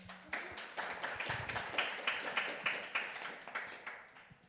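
A crowd applauds steadily, dense overlapping claps filling the room without pause for several seconds.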